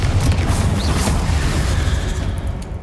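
A Confringo fire spell explodes in Hogwarts Legacy, a loud sustained roaring boom with crackling blast debris that holds steady for nearly three seconds before thinning slightly at the end.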